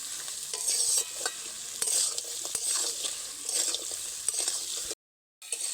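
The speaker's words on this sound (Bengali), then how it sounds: "মশলার সঙ্গে কাঁকড়া আলু ভালোভাবে আমি কিন্তু নেড়ে নিয়েছি" Crab pieces and potatoes tossed with spices in a pan for a Bengali crab curry, giving steady scraping stirs over a continuous close sizzle, with a brief silent gap near the end.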